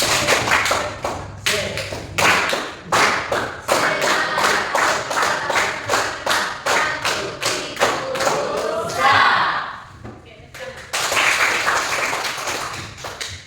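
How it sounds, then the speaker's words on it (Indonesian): Schoolchildren in a classroom beat out a rhythmic spirit clap, sharp unison claps in patterned bursts with brief chanted voices mixed in, pausing briefly before a final rapid flurry. "Tepuk semangat."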